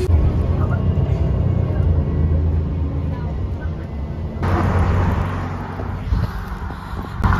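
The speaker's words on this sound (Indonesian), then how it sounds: "Jadi ini aku sekarang udah di dalam bus." Inside a moving bus in Germany, a steady low engine rumble and road noise with faint cabin sounds, a shift in the hum midway as the ride goes on.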